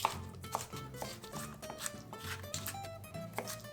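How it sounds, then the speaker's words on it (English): A knife taps rapidly and steadily against a cutting board, close by, while soft music plays underneath. "Basically just gonna keep chopping this until the timer's about to go."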